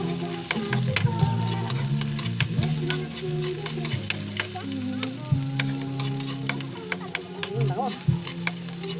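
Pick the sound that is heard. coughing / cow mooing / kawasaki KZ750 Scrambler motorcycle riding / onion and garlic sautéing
onion and garlic sautéing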